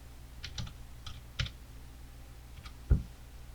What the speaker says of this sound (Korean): 영상 클릭하고 속보라고 타이핑 할게요